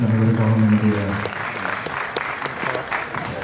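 Audience applause for orchestra musicians at a Tamil music event, a burst of clapping that starts out loud and strong, then thins to scattered claps and fades, while a voice carries on over it.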